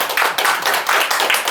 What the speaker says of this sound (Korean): 여러분 박수와 함께 맞아보겠습니다